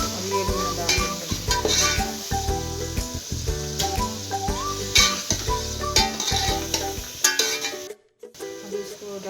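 Goat intestines and liver go into a hot pan and fry with a steady sizzle, while a utensil stirs and scrapes against the metal in repeated clattering strokes before a brief pause.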